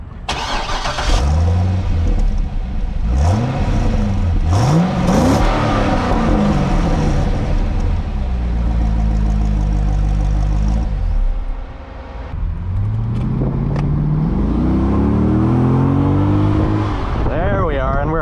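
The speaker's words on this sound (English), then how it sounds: "It's a naturally aspirated V8, so it has a punch and kick really all through the rev range" A naturally aspirated LS2 V8 in a rear-wheel-drive car with a six-speed automatic pulls hard through the rev range, rising engine howls broken by gear changes, loud and close, with a person talking over it.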